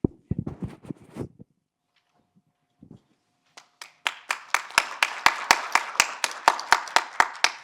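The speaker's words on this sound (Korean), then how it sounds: "여러분들 큰 박수 한번 다시 부탁드리겠습니다" Brief speech and a pause give way to loud, steady rhythmic clapping in even beats from the audience at a Korean university council general meeting.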